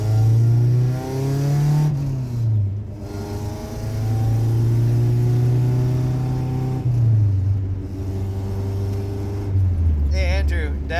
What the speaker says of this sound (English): like it has a really big exhaust leak.